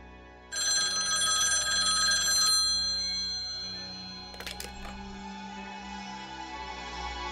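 An old telephone rings in a loud, steady electric bell burst for about two seconds, then falls silent, followed by a faint clatter and a low hum in a quiet room.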